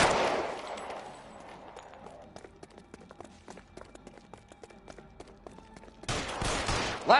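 Gunfire in the video game True Crime: Streets of LA: a long run of sharp, fairly quiet shots in quick succession, then a much louder, denser burst of fire near the end.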